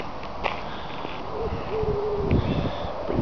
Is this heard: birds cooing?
yes